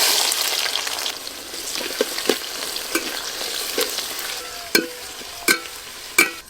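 Chopped onion frying with bay leaves, whole garam masala and dried chillies in oil for a mutton curry, a bright steady sizzle with several sharp spoon knocks against the pan, no speech.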